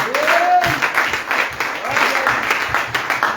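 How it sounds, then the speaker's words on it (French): A church congregation claps for the Lord in a dense, sustained burst of applause, with a voice rising briefly over the clapping at the start. "Clap for the Lord."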